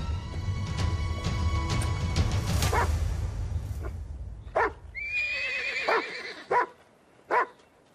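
Horses whinny and neigh loudly several times, with hooves clip-clopping at the start amid a busy historical drama scene.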